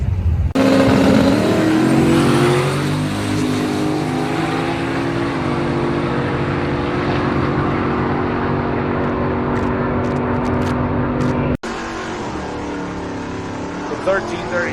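A race car launches on a drag run and accelerates hard, its loud close engine roar climbing through gears for about eleven seconds before cutting off, followed by quieter background noise.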